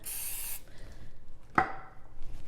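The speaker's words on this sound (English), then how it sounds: "Now I'm going to spray my scoop again." A brief hiss of cooking spray onto a cookie scoop, followed later by a sharp metallic tap, all fairly quiet and close.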